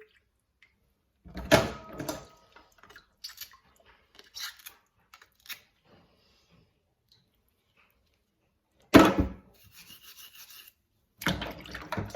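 Scourer rubbing and scraping the beards off mussel shells, heard in a few short bursts of close scrubbing separated by quiet gaps, with faint clicks of shell between them.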